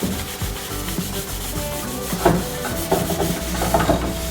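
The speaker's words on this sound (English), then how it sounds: "here I'm just wiping everything down with acetone just to make sure it's clean and there's no sawdust" A cloth wipes acetone over the wood of a dinghy's false stem, giving a continuous close scrubbing rub with repeated strokes and no talking.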